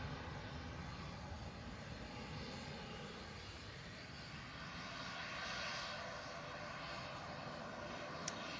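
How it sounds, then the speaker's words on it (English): A PC24 jet aircraft at Manchester Airport gives off a steady, faint engine roar and whine that swells slightly midway, heard at a distance with no talk over it. "quite a few people on that PC24 there"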